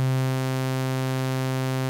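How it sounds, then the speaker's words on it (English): A steady, buzzy synthesizer sawtooth waveform tone at the pitch C, rich in harmonics, holds throughout, loud and unbroken, with no other sounds. "I will now morph this waveform from being a sine wave to being a sawtooth waveform"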